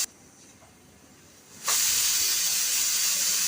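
A pressure cooker cooking jackfruit on a stove suddenly bursts into a loud, steady hiss of escaping steam after a quieter opening stretch, the rush holding on without voices.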